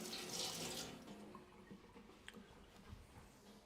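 A teaspoon is rinsed under a running kitchen tap: a brief burst of splashing water at the start, then fading into quiet dripping and small handling clinks.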